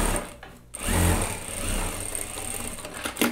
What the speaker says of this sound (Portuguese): venho aqui para costura de reforço do ladinho do chuliado do overlock